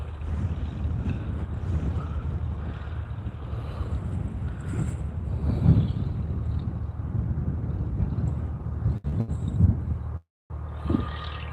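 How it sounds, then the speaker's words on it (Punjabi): Strong wind sweeps across an open field of young wheat, buffeting the microphone in a constant low, blustery rumble with gusty swells and a brief cutout near the end. "ਹਵਾ ਬਹੁਤ ਚੱਲੀ ਜਾ ਰਹੀ ਆ"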